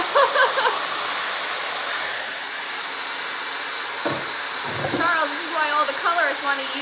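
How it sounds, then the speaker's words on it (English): A blow dryer runs steadily on hair during a hair loss treatment session, a loud continuous whooshing airflow that holds throughout, with brief shifts in tone and a voice talking faintly beneath it near the end. "But this blow dryer, I'm really happy with the heat."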